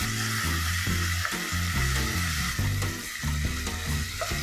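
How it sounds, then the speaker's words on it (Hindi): Chopped green chili and ginger-garlic paste sizzle loudly in hot oil while being stirred, a steady close frying hiss broken by scraping stir strokes, for an Indo-Chinese chicken hot and sour soup. "अब हम इसमें डालेंगे कटी हुई हरी मिर्च, 2 टीस्पून अदरक लहसुन का पेस्ट। इसे अच्छे से चला लेंगे।"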